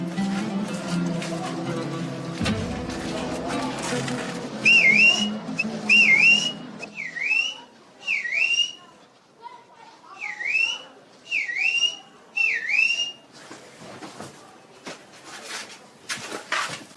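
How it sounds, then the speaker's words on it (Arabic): Someone whistles from the street outside in a repeated pattern of short rising and falling two-note calls, clear and mid-distance, with quiet room sounds between the bursts. "ده مين يا فندم اللي بيصفر لها ده؟"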